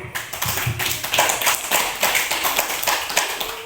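A group claps together, loud and close, a dense stream of hand claps with no talking over it.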